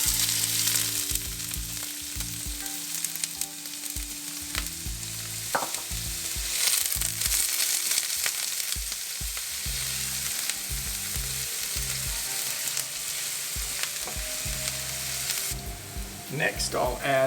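Onions frying in hot oil after mustard seeds, cooked for an Indian aloo masala, giving a steady close sizzle with bursts of crackle and stirring scrapes throughout, and a few faint low tonal sounds along the bottom.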